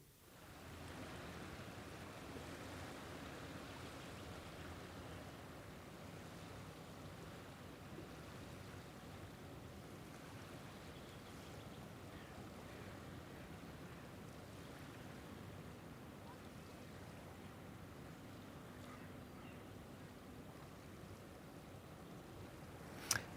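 Waves washing onto a sandy river beach on the Elbe, a steady, continuous surf wash with wind noise over the microphone, fairly distant and even in level throughout, with a brief knock near the end.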